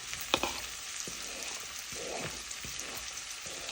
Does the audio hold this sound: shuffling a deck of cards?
no